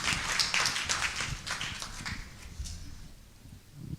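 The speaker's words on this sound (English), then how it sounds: "Once more, round of applause, please." Applause from an audience, a steady wash of many hands clapping that tapers off toward the end.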